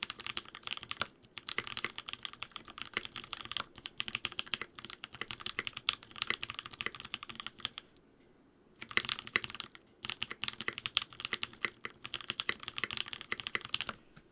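Fast, steady typing on a custom round polycarbonate keyboard fitted with 63.5 gram Penguin switches, a dense clatter of close keystrokes with a brief pause midway and no talking.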